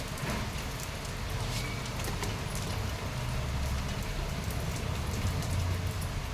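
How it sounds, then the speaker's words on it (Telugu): Steady rain pours down in a continuous, even hiss with a soft low patter throughout, and no voices. "వర్షం పడుతుంది చూడండి చల్లగా ఉంది వర్షం పడుతుంది"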